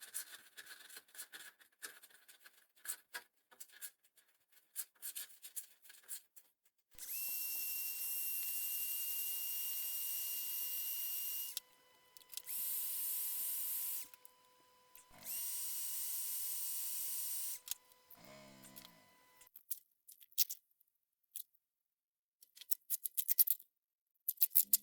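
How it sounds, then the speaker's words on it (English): A fret saw cuts slots joining drilled holes in a perspex sheet, heard as sustained loud buzzing bursts of roughly four, three and two seconds, separated by short pauses and quieter handling noises, with no talking. "now I just need to join those holes up, and to do that I'm going to use the fret saw."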